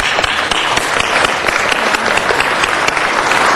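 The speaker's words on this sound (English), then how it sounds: "Let's give them applause." Loud, dense applause fills a city council meeting chamber, steady clapping from many hands sustained throughout without any voices.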